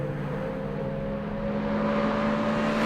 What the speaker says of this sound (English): you finally find that upper register of the engine that has the best noise and the power you expect